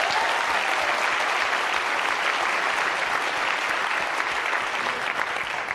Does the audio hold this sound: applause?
yes